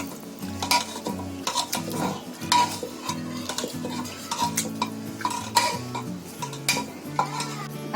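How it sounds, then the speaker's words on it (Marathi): Boiled mixed vegetables for pav bhaji are mashed right inside a pressure cooker, giving a steady run of close metallic scraping, clinking and soft thuds that keeps a busy, uneven rhythm throughout. "हे आपण आता याच्यामध्येच आहे ना कुकर मध्येच मॅश करूया."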